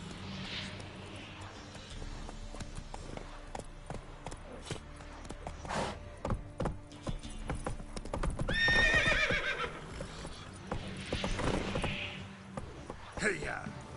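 Roach the horse gallops in The Witcher 3, hooves clip-clopping steadily with whinnies and snorts, while a crowd's shouts and commotion build and swell midway.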